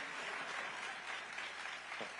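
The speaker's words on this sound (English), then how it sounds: "cheering for your girl" A crowd cheers and applauds steadily at an event in Chicago where Barack Obama speaks on pluralism, a dense, even wash of clapping that holds throughout with no voices standing out.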